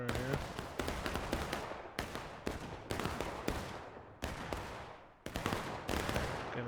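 Repeated gunshots crack out in bursts across a Civil War-era online battle game, volleys of musket-style fire near and far with brief gaps between, with faint talk beneath.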